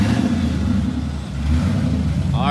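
A Z06 Corvette rolls slowly into a workshop bay, its engine rumbling steadily with light throttle blips, near and fairly loud, with no talk.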